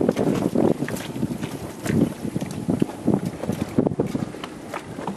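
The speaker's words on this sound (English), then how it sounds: "Dive, little dive boat working on that." A small dive boat motors near the wreck of a sunken 210-foot pleasure craft. Its engine runs under gusty wind buffeting the microphone, rising and falling in uneven surges.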